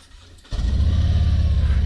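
A 2022 Harley-Davidson Road Glide Limited motorcycle engine cranks and fires up after a half-second of quiet, settling into a loud, close, low rumbling idle.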